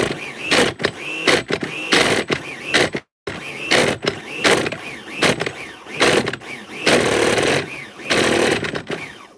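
A Novarossi nitro engine in an Ofna Jammin RC car buzzes in loud, choppy bursts with brief cutouts, revving up and down at close range.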